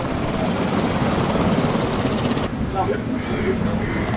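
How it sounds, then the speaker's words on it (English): Helicopters fly overhead in a loud, continuous whirring roar of rotor noise that fills the scene, with people talking and shouting beneath it before the sound abruptly drops to quieter background. "Why are they helicopters?"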